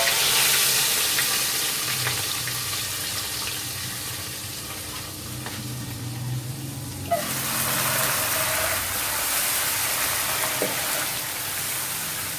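Gravy poured into a pot of Lahori chole rich with ghee, giving a steady loud sizzle and bubbling throughout, with a brief clatter midway before the frying hiss swells again.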